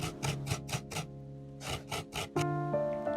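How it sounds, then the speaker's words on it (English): Fresh coconut grated by hand on a scraper for Goan patoleo, giving a run of quick, regular rasping strokes in short bursts, close and clear with no talking. "See how expertly Tia Bernadette grates the coconuts on the scraper."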